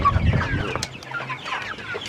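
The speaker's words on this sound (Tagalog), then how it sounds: "May manukan din sila dito." Chickens cluck in a crowded coop on a farm in Pangasinan, several birds close by with busy overlapping clucks and short squawks.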